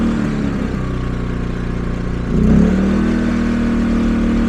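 A portable generator engine is cranked and catches partway through, surging up with a rising roar and then settling into a steady, loud, close running hum.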